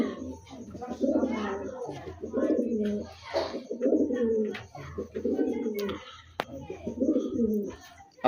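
Pigeons coo close by in repeated soft, throaty phrases with short pauses between them, and faint chirps and light knocks mix in.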